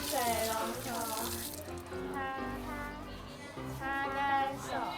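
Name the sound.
tap water running while rinsing hands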